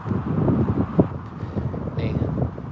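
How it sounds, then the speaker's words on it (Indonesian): Wind blows through casuarina (cemara) trees at a park in Alahan Panjang, a steady broadband rush with gusty swells, with people talking nearby over it. "Bunyi pohon cemara ditiup angin"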